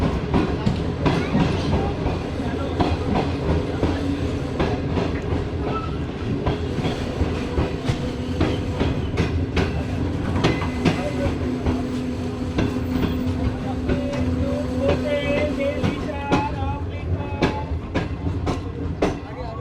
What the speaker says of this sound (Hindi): ट्रेन हमारी पहुंच चुकी है भावलपुर रेलवे स्टेशन पर